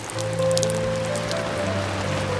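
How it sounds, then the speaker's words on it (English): Rain patters steadily on the fabric canopy of a campervan awning in an off-grid camp on Anglesey, a dense, even hiss of drops with no one speaking. "enjoy the warmth of the fire to the sound of the rain pattering on the canopy of the awning"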